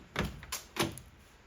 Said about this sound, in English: the doors on this thing, it's just, they click shut, they're solid